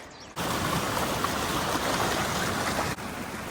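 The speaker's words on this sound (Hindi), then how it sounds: "ये सजला वाटरफॉल की आवाज़ है" Water rushes steadily at the Sajla waterfall and its stream near Manali, a dense, even roar that fills the clip with no voices.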